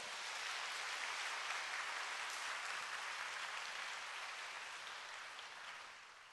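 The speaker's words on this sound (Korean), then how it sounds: "여러분 박수 한번 해주십시오." A church congregation applauds during a Korean Sunday worship service, with dense, steady clapping that fills the whole stretch and tapers slightly at the end.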